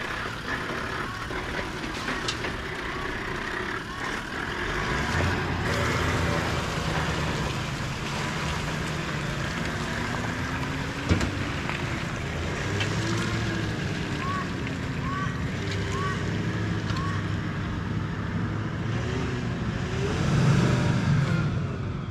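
A Toyota 4x4 on Kumho MT71 mud tyres, with no lockers, grinds up a steep mud hill, its engine droning steadily and rising in pitch with a few revs, heard close with occasional talk over it.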